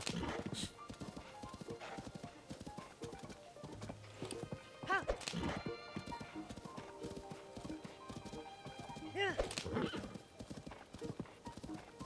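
A horse in Tears of the Kingdom clip-clops steadily in a quick trotting rhythm, with two loud whinnies breaking through and a voice talking faintly over the hooves.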